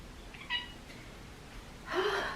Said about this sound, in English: my cat wants my attention? He keeps on meowing